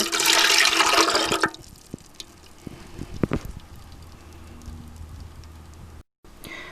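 Warm water gushes and splashes loudly into a bread machine for about a second and a half, then stops, leaving faint taps and clinks in a quiet room.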